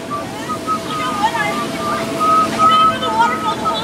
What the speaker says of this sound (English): I've been under the waterfall the whole time.